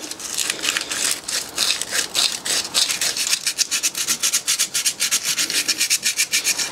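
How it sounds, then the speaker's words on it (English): 80-grit sandpaper rubs back and forth on a corroded car battery terminal of an old BMW left sitting in a barn, a close, steady run of quick rasping strokes that speed up toward the end, with no talking. "Just a bit of 80 grit sandpaper."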